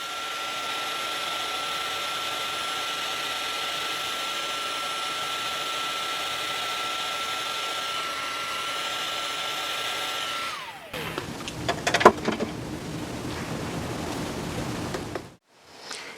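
A heat gun melts embossing powder on cardstock at a craft retreat, giving a steady, loud, even hiss of blowing air for about eleven seconds before it shuts off, followed by softer handling noises and rustling.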